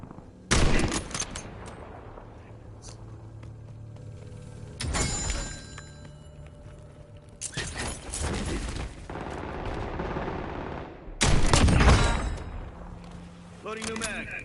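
Call of Duty gunfire: several loud bursts of automatic shots separated by quieter stretches with mechanical clicks and rattles, and voices talking in between.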